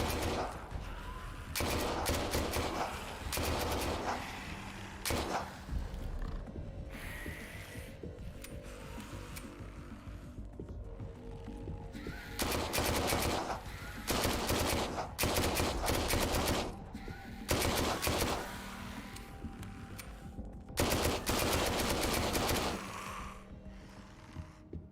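Heavy gunfire in close-quarters combat in Dead Frontier 2: loud, rapid bursts of shots come in repeated clusters, separated by short lulls and quieter background noise.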